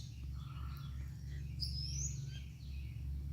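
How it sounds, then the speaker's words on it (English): Birds chirp in short, faint calls outdoors near a greenhouse, a few brief tweets rising over a steady low hum in the background. "He likes to look at the birds."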